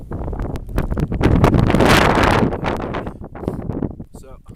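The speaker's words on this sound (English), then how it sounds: "This wind is terrible." Strong wind buffets a microphone on a snowy mountain at sunrise during a hike, a roaring gust that swells to a peak and then eases, with a voice faintly present around it.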